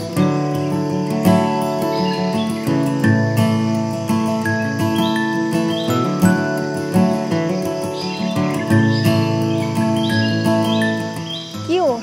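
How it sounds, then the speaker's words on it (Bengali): Birds call through a casuarina forest near a beach, with dense, overlapping chirps and whistles all around, steady and fairly loud, no voices. "কিন্তু শুধুই পাখির ডাক।"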